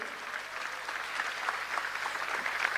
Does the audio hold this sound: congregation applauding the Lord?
yes